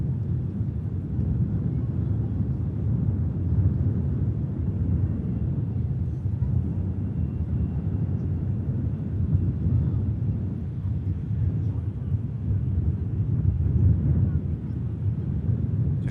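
A Saudia airliner on approach at Manchester Airport, heard as a steady, distant low rumble that holds constant throughout, with some wind noise on the microphone.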